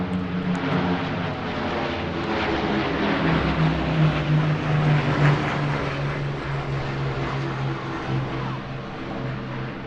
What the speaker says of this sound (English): The Lancastars coming right over your heads.